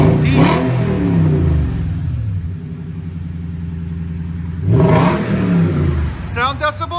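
A 2014 Toyota Tundra 5.7L V8 with a Dirty Deeds cat-back exhaust gives two deep, loud revs that rise and fall, separated by a steady rumbling idle, with a brief voice at the end.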